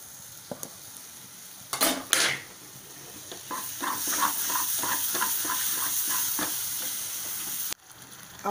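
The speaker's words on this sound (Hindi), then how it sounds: "अब हम इसको इसके अंदर मिक्स कर देंगे।" Jaggery being stirred in a pan for puran poli filling: a spoon scrapes and knocks in quick repeated strokes over a soft, steady sizzle, with a couple of louder clanks near the start.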